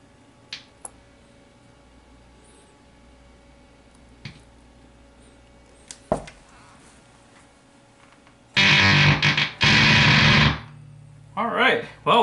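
A loud burst of harsh, buzzing distorted guitar from a faulty MOSFET fuzz pedal fills a couple of seconds, followed by a brief choppy burst, after scattered quiet clicks and taps.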